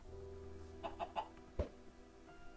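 A chicken in the Minecraft video game gives a few quick, faint clucks in a short cluster, followed by a single soft pop, against a quiet low hum.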